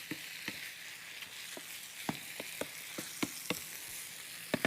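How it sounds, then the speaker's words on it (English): A beef meat mixture is stirred in a pan, a soft sizzle running underneath while a spoon scrapes and clicks at irregular intervals, close and fairly quiet. "Just stir it together."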